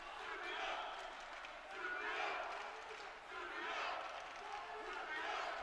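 A boxing arena crowd at a 57kg world championship bout roars and cheers in sustained waves, loud and continuous, swelling and dipping every second or so with no clear single voice.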